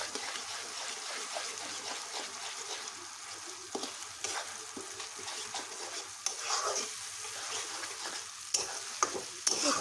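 Pickle mixture with freshly added mustard seeds frying in a pan, the heat turned up; a steady close sizzle runs throughout, broken by scattered sharp pops and crackles, with no talking.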